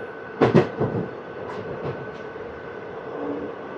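A train moves through a railway station, with a few sharp clattering knocks early on and then a softer, steady rolling rumble under a faint, constant hum.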